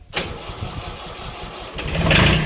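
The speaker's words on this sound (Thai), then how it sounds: "เดี๋ยวไปขึ้นไปลองสตาร์ท ฟังเสียงหน่อย" A Kubota L2002DT tractor's diesel engine cranks briefly, catches and settles into a loud, close, knocking idle that swells toward the end.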